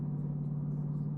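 A supercharged Dodge Durango SRT with a Whipple supercharger hums steadily while driving, giving a deep, constant engine drone with no revving or change in pitch over the brief moment.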